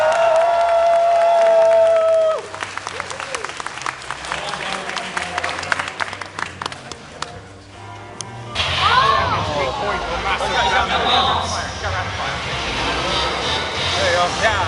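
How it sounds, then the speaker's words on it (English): A convention audience at Conbravo 2018 cheers and applauds for the volunteers and workers, a loud broad crowd roar that swells after a brief lull and carries on steadily. "can we get a cheer for the convention volunteers and workers who make everything possible?"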